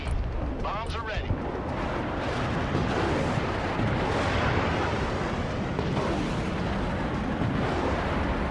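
Bombs in a video game explode in a loud, continuous barrage of booming blasts and rumbling, dense and sustained with no pauses.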